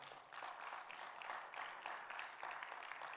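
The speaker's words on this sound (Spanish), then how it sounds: "¿Cuánto le dan un fuerte aplauso al Señor" Congregation in a church applauding: several seconds of continuous, moderately distant clapping from a group, even and sustained with no voices over it.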